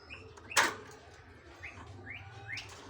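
A young trotolan songbird calls from inside its cage, giving a few short rising chirps at moderate distance over faint background noise, with one sharper burst early on.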